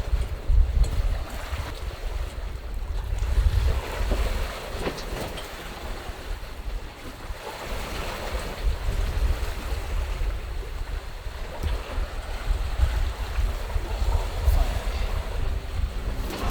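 Sailboat under sail at about 4 knots, running with the wind, carrying a steady broadband rush of wind and water along the hull with low rumble, continuous and fairly loud throughout.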